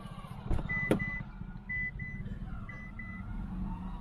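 A Nissan Magnite's door-open warning chime beeps several times in short repeated tones over a low idling engine rumble.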